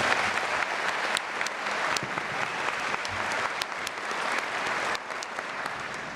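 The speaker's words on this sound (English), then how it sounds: "Let's all honor Professor Benza with another round of applause" An audience at a law school diploma ceremony applauds to honor a professor, a sustained, even roar of many hands clapping in a large hall, with occasional sharper individual claps standing out.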